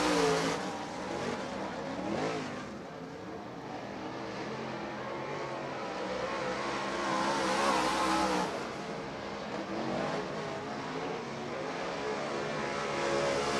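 Modified race cars run laps on a dirt racetrack during a winter nationals event, engines droning and swelling as they pass at moderate distance, with continuous roaring and revving throughout.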